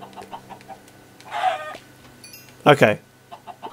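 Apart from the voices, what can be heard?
chickens clucking in the video game Minecraft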